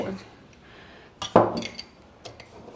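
Coarse salt tipped from a small glass into a homemade red chilli and brinjal pickle, giving a short burst of clinks and a gritty rattle of grains in the middle, with faint room noise around it.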